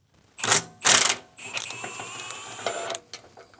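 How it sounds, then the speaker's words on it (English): Bolts being loosened on a Ferrari mowing tractor, giving two short bursts of metallic ratcheting followed by a steadier mechanical whir with faint clicks, close and fairly loud, with no talking. "I'm going to go ahead and loosen these 4 bolts and see what happens"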